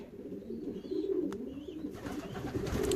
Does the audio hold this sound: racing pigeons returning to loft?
yes